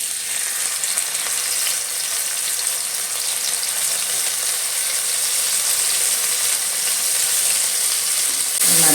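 Piranda (adamant creeper) frying in sesame oil gives a steady, loud sizzle with faint scraping from stirring, continuous throughout and briefly louder at the very end.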